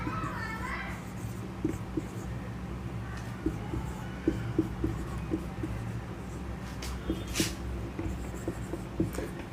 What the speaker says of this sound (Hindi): तो लिख देते हैं